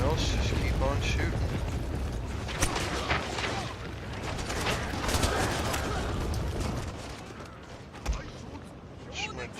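Musket volleys crackle through a Shogun 2 multiplayer siege battle in dense, overlapping bursts of rattling gunfire with a few sharper reports. A voice talks over the din.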